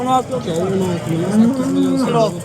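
A cow at the Xo'jaobod livestock market lets out a loud, close, drawn-out moo that wavers in pitch and fills the whole moment.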